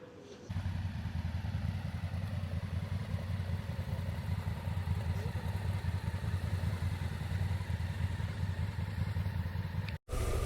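A motorcycle rides along a road in the UAE, its engine a steady, loud, close rumble with wind noise throughout, broken only by a brief cut near the end.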